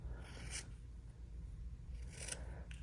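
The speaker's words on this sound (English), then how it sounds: "I'll take something like this and I'll cut thinner strips of it" Scissors snipping thin strips from wool fabric, a few short, crisp cuts close up over a faint, quiet background with no talk.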